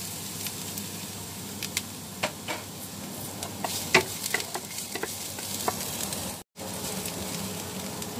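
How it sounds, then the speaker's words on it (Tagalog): Chopped garlic fries in cooking oil in a pan for crab curry, giving a steady close sizzle with scattered small pops and ticks and no talking. "maglagay po tayo ng cooking oil. Lagay po natin guys ang bawang."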